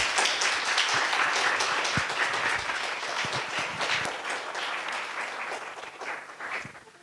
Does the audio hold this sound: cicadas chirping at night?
no